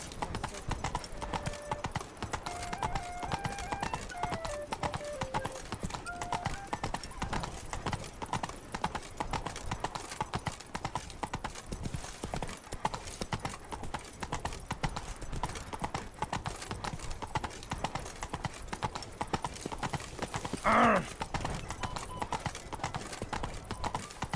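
Roach the horse gallops in The Witcher 3, hooves clip-clopping in a steady rapid rhythm throughout, with a brief whinny or snort near the end and game speech mixed in.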